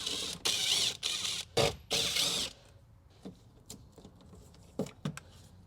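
A power driver whirring out 7mm screws from a 2020+ Ford Transit front door speaker: several short, loud mechanical bursts up close, then quieter clicks and handling noises.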